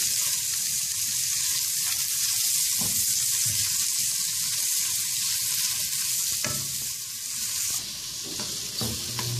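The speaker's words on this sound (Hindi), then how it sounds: "अब मैं इसके अंदर ही चॉप किया हुआ प्याज डाल रही हूँ।" Chopped onion frying in a pan of oil for beef white karahi, a loud, continuous bright sizzle with occasional scraping and stirring clatter up close, no talking.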